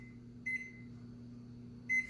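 An oven timer being set while Jamaican sweet potato pudding bakes at 350 degrees gives two short electronic beeps about a second and a half apart over a low steady hum.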